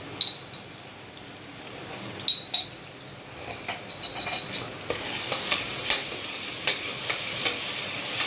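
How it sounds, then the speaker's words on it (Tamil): Onions sizzle in hot oil with ginger-garlic paste as a spoon scrapes and clinks against the pan in irregular strokes; the frying hiss grows louder midway. "வெங்காயம் நல்லா வதங்கணும்."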